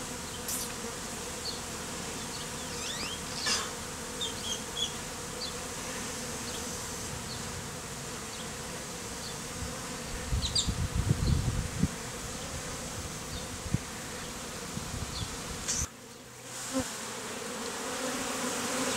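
Steady, dense buzzing of many bees swarming close by, continuous throughout with a few louder passes of individual insects near the end.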